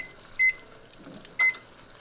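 An oven's control panel gives two short, clear electronic beeps about a second apart while being set to preheat to 375, close and alone in a quiet kitchen.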